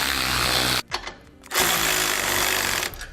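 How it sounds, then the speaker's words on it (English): A power tool tightens nylon lock nuts onto carriage bolts while air helper springs go on a 2012 Ford truck. It gives a loud, rattling impact burst, a short pause, then a second long burst that runs to the end. "now we'll start to tighten those nuts down evenly, working our way one at a time across until it starts to touch our axle"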